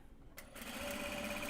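A sewing machine starts up after a brief quiet moment and keeps a fast, even mechanical hum up close, stitching Japanese fabric for a Kato drawstring bag.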